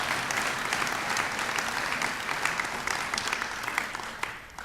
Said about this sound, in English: and this round of applause goes to you